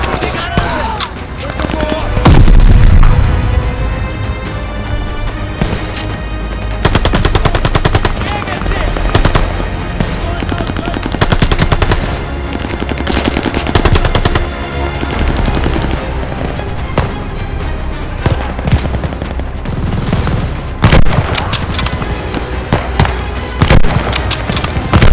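Sustained machine gun fire rattles almost nonstop in a Call of Duty: Vanguard battle, dense and loud with booming explosions mixed in and shouted voices in the background.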